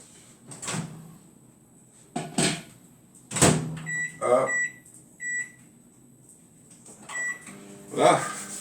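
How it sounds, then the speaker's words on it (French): A kitchen microwave oven in use to melt ingredients, heard as a series of clunks and door thuds with several short electronic beeps, close by, with a person talking in between. "On va faire fondre, mais pas dehors, hein, dans le micro-ondes."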